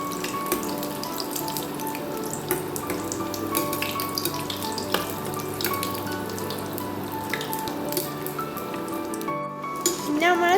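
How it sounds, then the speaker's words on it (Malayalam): Dates stuffed with filling fry in a pan on a medium flame, steady soft sizzling with small crackles and pops, close and continuous, with a brief clatter near the end. "പിന്നെ നമ്മൾ സ്റ്റൗ മീഡിയത്തിൽ ഇട്ടിട്ട് വേണം കേട്ടോ ഇത് ഫ്രൈ ചെയ്തെടുക്കാൻ"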